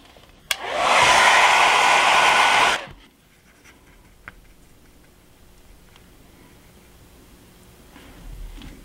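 A hair dryer blows loud and steady for about two seconds, drying rust-colored paint on an HO scale model water tower, then cuts off, leaving faint ticks and quiet room noise.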